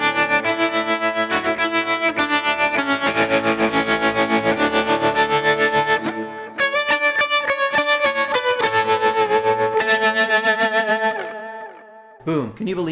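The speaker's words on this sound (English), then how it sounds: "Maybe I want to put a trem on there." Electric guitar on a Kemper praise-and-worship rig with tremolo added, distorted chords pulsing in a fast steady throb, then sustained notes, with a brief spoken word near the end.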